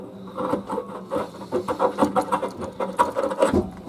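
Water heater element being unscrewed by hand, a close rhythmic series of short grinding, rubbing scrapes from the threads turning, repeating steadily for a few seconds.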